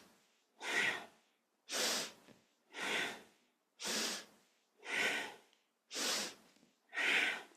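Deep, slow breaths during a kundalini yoga practice, seven long even inhales and exhales in a steady rhythm, close and airy, with no talking.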